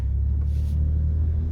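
Truck engine rumbling steadily in low-range four-wheel drive with the locker engaged, a deep continuous drone heard close and alone with no talk.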